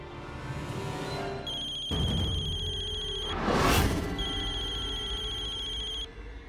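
A telephone rings with a bright electronic trill in two repeated bursts, separated by a brief whooshing noise, against a quiet background with no talking.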